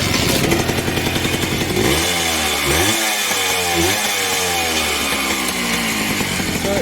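A Suzuki H100S motorcycle engine, fitted with a new Taiwanese carburetor and suffering poor suction, runs loudly and continuously close by, revving up and down with a rough, buzzing tone and no talk over it.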